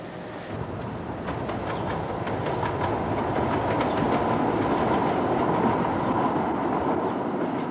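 Metro train running on rails, a steady loud rumble with rhythmic clickety-clack of wheels over rail joints throughout, no voices.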